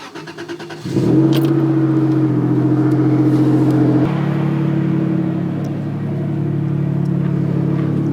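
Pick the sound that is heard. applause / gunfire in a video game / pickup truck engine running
pickup truck engine running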